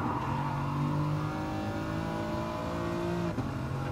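A race car in Gran Turismo Sport accelerates hard out of a corner, its engine note climbing steadily through the gears with a brief dip near the end.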